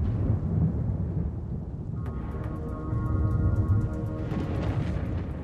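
Deep rolling thunder from a distant electrical storm, a long sustained rumble that swells and fades with no voices over it.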